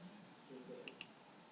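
A right mouse click on a computer, two quick faint clicks close together over low background hiss.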